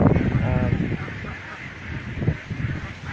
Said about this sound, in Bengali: এগুলো আমাদের হাঁস